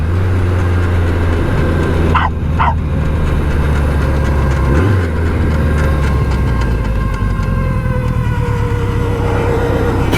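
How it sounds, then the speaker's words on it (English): Steady road traffic heard from aboard a BMW K100LT motorcycle with sidecar: a loud, continuous engine and road rumble fills the whole stretch, with a short tonal burst early on and no talking. "Traffic."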